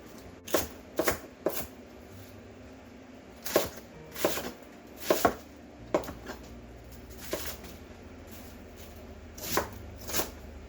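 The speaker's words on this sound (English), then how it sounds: "now that I took a half an hour to chop up all of our cabbage here" A knife chops fresh cabbage on a board in irregular clusters of crisp, crunchy cuts, close and moderately loud, with brief pauses between strokes and no talking.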